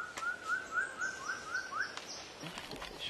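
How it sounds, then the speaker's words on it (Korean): An endangered Seychelles magpie robin calls with a run of clear, evenly repeated whistled notes that rise at the end, moderately close over soft outdoor background, with fainter thin chirps around it. "현재 멸종 위기종인 세이셸 까치 울새"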